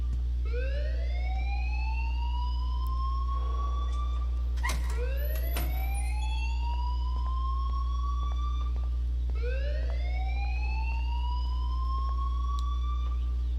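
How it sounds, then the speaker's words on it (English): Electronic alarm sounding in the video game Life is Strange: repeated rising, wailing sweeps in a steady cycle, loud and continuous over a constant low hum, with a brief clattering burst partway through. "please turn off that alarm since that's your job"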